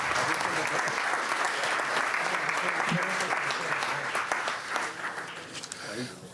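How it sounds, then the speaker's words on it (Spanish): An audience at a bullfighting talk for the San Sebastián Mártir fiestas applauds bullfighter Diego García, sustained loud clapping that holds steady, then thins and fades toward the end. "quiero decirles que les dediquen un aplauso a nuestro torero, a Diego García"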